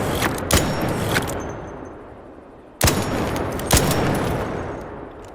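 Single heavy shots from the Anvil six-round revolver in ARC Raiders, loud and near, spaced a second or more apart, each followed by a long ringing decay with a clear gap between.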